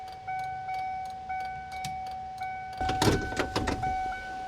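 Ford Econoline van hazard flashers ticking in an even rhythm of clicks, close and clear, with a clunk of handling partway through.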